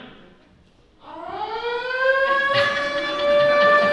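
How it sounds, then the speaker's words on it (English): A siren at a birthday roast event starts after a brief quiet moment and winds upward in pitch, then holds a loud, steady wail to the end. "Give me a siren."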